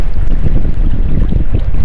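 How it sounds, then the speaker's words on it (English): Strong wind buffets the microphone in an open wilderness setting near water, a continuous loud roaring rush with no pauses, heavy and steady throughout the whole stretch. "Well, as you can see, it's pretty windy."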